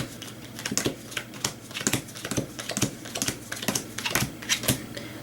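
Playing cards laid one by one onto piles on a table during a card game, a quick series of crisp, close slaps and flicks at an uneven, fairly steady pace with no talking.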